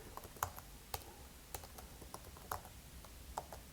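Keys clicking on a computer keyboard as an email address is typed, a loose run of quiet, close taps with uneven gaps and a few sharper strokes, no voices.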